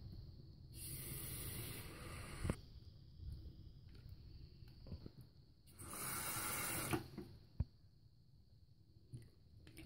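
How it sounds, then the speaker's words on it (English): Tap water runs into containers at a kitchen sink in two separate bursts of steady hissing flow, the second after a pause, with a few clunks and handling knocks between them and no talk. "Now we're at the sink, and we are going to be putting some water in the things"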